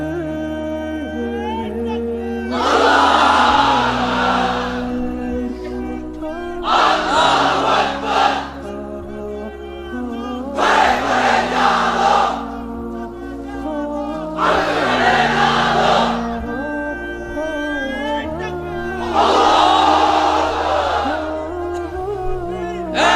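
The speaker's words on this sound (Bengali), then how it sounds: "এবার অবিবাহিতরা দাও লিল্লাহি তাকবীর।" At an amplified religious sermon gathering, a large crowd roars the chant 'Lillahi takbir' in five loud, drawn-out shouts spaced a few seconds apart, alternating with a leader's voice calling over the sound system.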